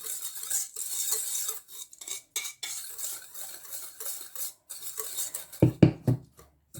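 A utensil stirs and scrapes bath fizz ingredients in a bowl, giving quick, irregular clinks and scratches close by with short pauses, then a few sharper knocks near the end.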